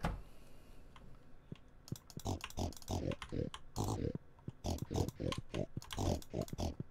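Pigs in the farming video game Stardew Valley give a series of short oinks and grunts, mixed with light clicking, at moderate loudness.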